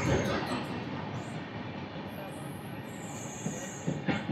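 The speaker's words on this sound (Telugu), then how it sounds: "కోరమండల్ ఎక్స్ప్రెస్ 12842 చెన్నై నుంచి షాలిమార్ వెళ్తుంది." Coromandel Express 12842, running from Chennai to Shalimar, rolls past with a continuous rumbling roar of wheels on rails and high squealing from the wheels, loud and close throughout.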